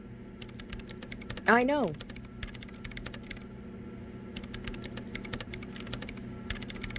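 Typing on a computer keyboard in the video game Disco Elysium, a steady patter of key clicks running throughout at moderate volume, with a brief spoken line early on and a low room hum underneath.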